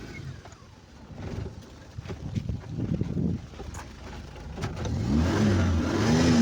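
A 2017 Maruti Omni van's engine idles and then revs up, the rising drone getting louder toward the end over a steady rumble with some wind noise.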